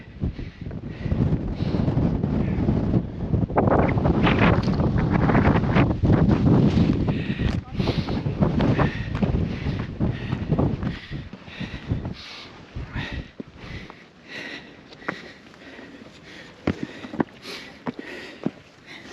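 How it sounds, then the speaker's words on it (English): Strong gusty wind buffets the microphone near the summit of Snowdon on a mountain trail, a loud roaring rumble that eases toward the end, with faint breathing and rustling in the gaps. "Could have done without the wind."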